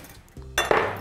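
A spoon stirs a thick filling of spinach and cheese for ravioli in a bowl or pan, with a short clatter and scrape of utensil against the dish, close and fairly loud, and no talking.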